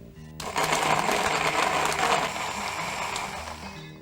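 A blender starts up and whirs loudly through whole tomatoes with skin and seeds left in, a close, steady motor drone that eases slightly toward the end.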